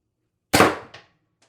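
A single sharp crack from a Pistelle X-68 pistol powered by 3x12g CO2 cartridges during a velocity test, fired once near the microphone with a short decaying tail and a faint second echo, no talking.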